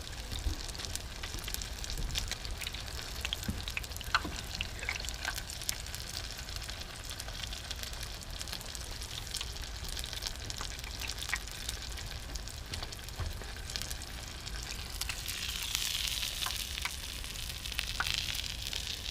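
Panfish frying in a pan of hot canola oil, a steady close crackling sizzle with scattered pops and spits that holds throughout and swells slightly near the end.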